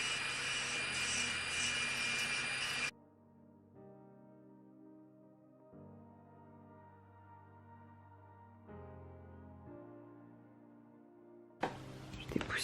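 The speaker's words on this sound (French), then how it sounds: "Je viens enlever toutes les petites peaux et les restes de cuticules avec cet embout là" An electric nail drill with a sanding bit removes cuticles and leftover skin, giving a close, harsh, whirring grind at the start and again at the end, with quieter tonal sounds in between.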